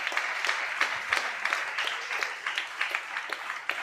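A church congregation applauds, steady crowd clapping filling the space at moderate volume with no talk over it.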